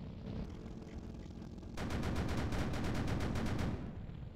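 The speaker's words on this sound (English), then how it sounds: "The absolutely insane high fire rate 20mm with super pin." A 20mm tank cannon with a very high rate of fire, firing in the Sprocket tank game: one fast, even burst of closely spaced booming shots lasting about two seconds over a low rumbling background.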